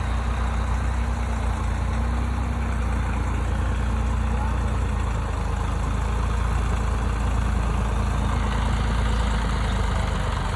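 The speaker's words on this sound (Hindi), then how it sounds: "देखिए जी ट्रैक्टर जो है किस तरह अंदर जो है गीली ज़मीन पे धंस रहा है" A tractor sinking into wet ground strains to pull a felled tree out of a village canal, its heavy diesel engine droning loudly and steadily throughout at close range.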